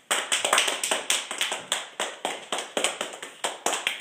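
An audience applauds a speaker being introduced at an institute lecture, a dense, steady run of clapping hands from a moderately sized crowd, continuous and fairly loud with no voices.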